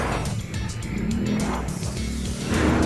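A scooter with a modified torque drive pulley accelerates hard in low gear, its engine revving high and buzzing close by with rising and falling tones and a louder surge at the end.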